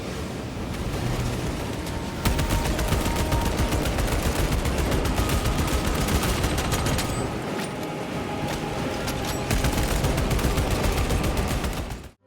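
Gunfire in the video game Warhammer 40,000: Space Marine 2, a dense continuous roar of rapid weapon fire and explosions, loud and sustained, cutting off abruptly at the end.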